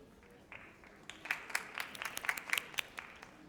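A modest audience at a dean's list recognition ceremony claps lightly for an awardee, a scattering of sharp individual claps at moderate distance in a fairly quiet hall.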